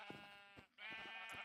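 Minecraft sheep on a sheep farm give two close, nasal bleats back to back, clear and fairly loud, with a short gap between them.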